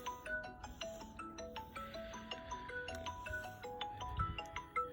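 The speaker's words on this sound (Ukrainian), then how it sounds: "Що бачите, вже хтось дзвонить." A phone's melodic ringtone plays a repeating tune of bright electronic notes, fairly quiet and steady, with no talking.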